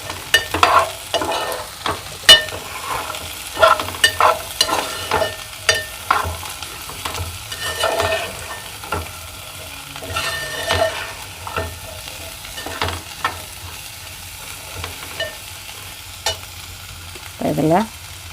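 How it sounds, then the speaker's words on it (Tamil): Small bitter gourd stir-frying in a pan for poriyal is stirred with a spatula that scrapes and clatters repeatedly over a continuous sizzle. The sound is close and fairly loud, and no one speaks. "பாவக்காயை போட்டுட்டு இப்போ இதை கிண்டி விட்டுட்டு அப்புறமா உப்பு போடலாம்."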